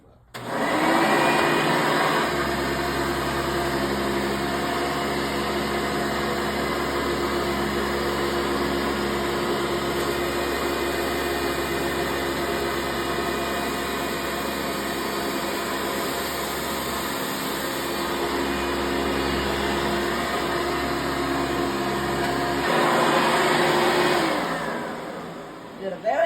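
A Hoover Soft and Light Supreme vacuum cleaner runs steadily and loudly for over twenty seconds with a constant motor whine, starting and stopping abruptly, and a voice can be heard faintly beneath it.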